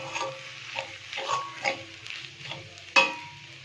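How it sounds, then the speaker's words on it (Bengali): Eggs being stirred and fried in a pan for Bengali-style egg bhurji, with soft scraping and sizzling, then a sharper clatter of utensil against pan near the end. "সকালে খাবারের জন্যে তোকে ডিম ভুজি করে নিচ্ছি"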